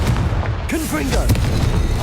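A short, loud blast from the Confringo blasting spell in Hogwarts Legacy, a booming burst rolling under a shouted voice.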